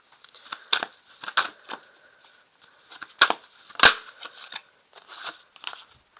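A tarot card is drawn from the deck and laid on top of a spread, making a string of soft, close papery clicks, flicks and rustles in quiet pauses.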